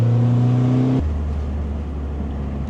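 A pink Mazda 3 MPS, a 340 hp hot hatch, heard from inside under acceleration: a steady engine drone whose pitch drops suddenly as the gear changes, then a low continuing hum.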